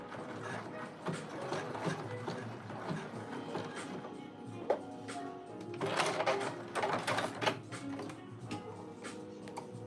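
Sewing machine running in a home sewing setup, a steady mechanical whir with rapid ticking needle strokes that speed up and pause, moderately close with no talk over it.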